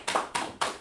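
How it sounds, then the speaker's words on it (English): Three separate sharp claps in quick succession, like a few hands clapping for someone in a class or meeting, close and fairly faint, with no talk. "So let's clap it up for him right there."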